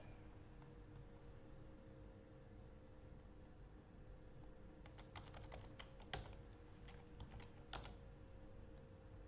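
Computer keyboard typing, with sparse key clicks clustered in the second half over a steady hum and background noise, faint and fairly close, with no talking.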